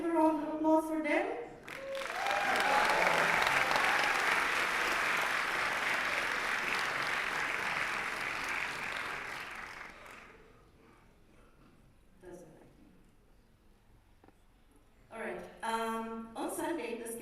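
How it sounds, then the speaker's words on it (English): Conference audience applause at a large student gathering in Bucharest swells after someone speaks, holds loud for several seconds, then thins and fades to quiet before speech resumes. "let's give a round of applause for them"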